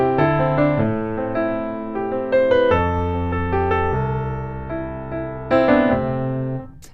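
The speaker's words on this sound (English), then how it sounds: "There's a really cool piano part in this chorus." Piano plays the flowing chorus melody of a song over sustained chords, clear and close, with no voices.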